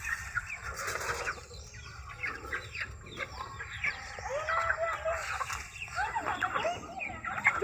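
Chickens being fed make busy clucking and short calls, with some wing flapping, scattered across the whole stretch at moderate closeness, while a voice speaks faintly in the background.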